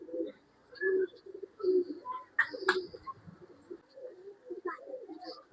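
Pigeons kept for sale in Bangalore coo softly in repeated low, rolling phrases, with a few faint chirps and small rustles in a quiet setting.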